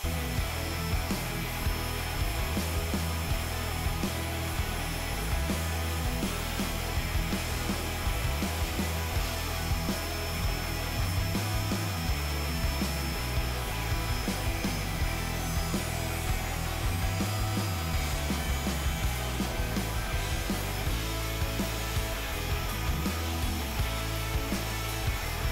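An MPCNC CNC router cutting the profile of a wooden corn hole board, a continuous whining, grinding drone that stays steady and fairly loud throughout, with no talk.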